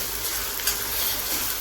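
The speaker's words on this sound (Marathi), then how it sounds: "हे वाटण पण असं छान शिजू द्यायचं आहे आता तेलात" Ground masala paste with tomato and onion sizzles in hot oil in a pan, a steady soft frying hiss with faint crackle throughout, no voices.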